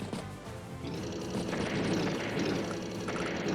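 A propeller-driven bomber from the turn-based strategy game Advance Wars drones steadily with a rough, buzzing engine roar that holds level throughout, no talking.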